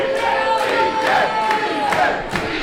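Wrestling crowd at a Coastal Empire Wrestling show chanting "CJ" for the Caramel Bear, a loud, dense arena roar with rhythmic chanted pulses and whistles, sustained throughout with no separate commentary on top.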